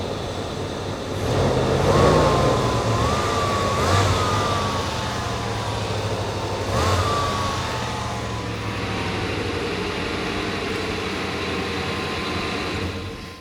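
Car engine idling just after starting, heard while checking the drive belt after an engine bay cleaning, a steady low hum with a brief rev near the start and faint whining tones, no belt squeal, no speech.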